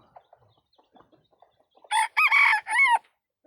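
A rooster crows loudly and close by in one long, clear call in the second half, after a quiet stretch with faint scattered background noises.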